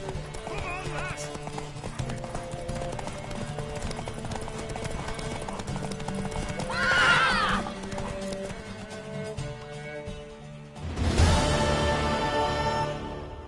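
A horse gallops with rapid hoofbeats in the video game Witcher 3, neighing loudly partway through, with music and spoken voices running underneath the steady pounding.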